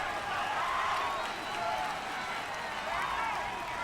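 Stadium crowd in the Madden NFL 19 football game, a dense continuous roar of cheering and noise that holds steady throughout, swelling slightly at moments.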